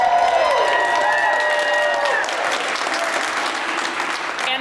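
An audience breaks into applause at a civic event, a dense, sustained clapping that starts over a few lingering musical tones and continues steadily, fairly loud and close.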